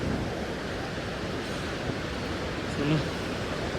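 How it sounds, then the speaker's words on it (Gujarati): Steady broadband rush of a river flowing below a damaged mountain road in the Kedarnath valley, heard from above as a constant wash of water with wind, fairly loud and unbroken. "મસ્ત મજાની નદી નીચે જાય છે"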